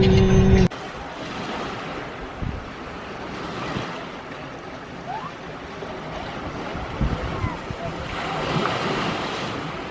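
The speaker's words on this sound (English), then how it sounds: "Here at my favorite beach" Surf rolls in at a Hawaiian beach, a continuous wash of waves with wind buffeting the microphone and a brief clatter at the very start, swells rising and falling under faint background voices.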